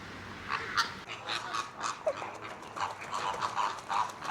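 Flamingos at a bird park honk and call noisily as a flock, with overlapping goose-like cries repeating throughout from a moderate distance.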